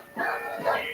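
A dog lets out two quick barks or yips, close and fairly loud, with no other sound around them.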